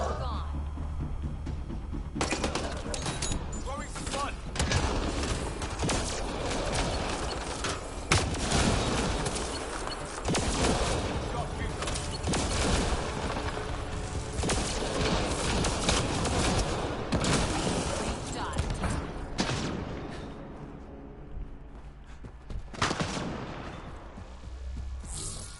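Weapon fire in the video game Mass Effect Andromeda, repeated heavy blasts and booms over about twenty-five seconds amid a loud, dense battle din, with a voice talking over it.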